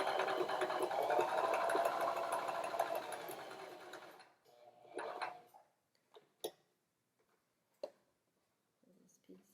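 A sewing machine stitches elastic in a steady, close whirring run that lasts about four seconds, then stops, leaving a few soft handling clicks and rustles in a quiet room.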